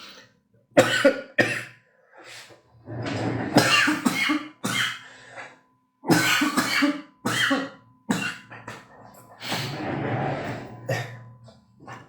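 A series of harsh, repeated coughs in several bursts, with short pauses and throat-clearing between them, loud and close.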